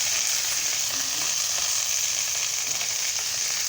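Continuous, even sizzling of ingredients frying in a pan just before chopped red amaranth greens go in, close and steady with no voices.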